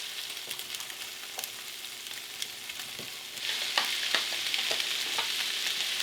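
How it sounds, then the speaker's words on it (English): Baby portobello mushrooms fry in a pan with a soft, continuous sizzle and scattered crackles, growing livelier partway through as more pieces hit the hot surface, with no one talking. "So first I'm going to put in some mushrooms."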